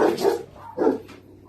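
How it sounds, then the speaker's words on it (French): A small dog barks outside a shop: two short, fairly close barks with a brief pause between them, then quiet. "c'est un petit chien qui aboie devant le magasin à chaque fois qu'il passe"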